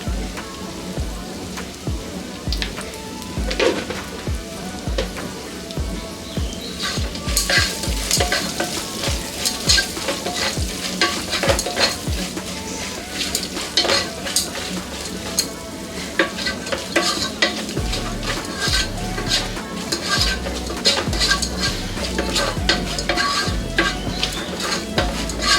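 Onions fry with a pinch of turmeric in a pan for an Indian radish stir-fry, a dense continuous sizzle broken by repeated scraping strokes of the spatula that grows louder partway through.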